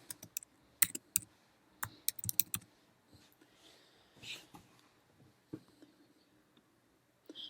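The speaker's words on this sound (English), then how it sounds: "I'm going to type in the Who." Keys on a computer keyboard clatter in short irregular bursts of clicks, close and fairly quiet, with brief pauses between groups of keystrokes.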